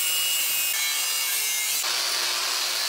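Sanding a welded metal tool-cart frame built from recycled materials before anticorrosive coating, a continuous harsh abrasive rasping that shifts pitch midway, loud and close with no voices.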